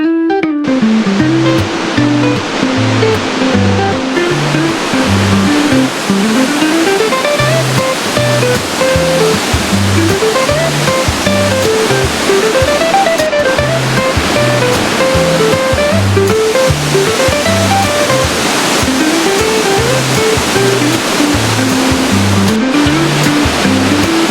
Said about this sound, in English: So now we're going to show you the Upper Falls.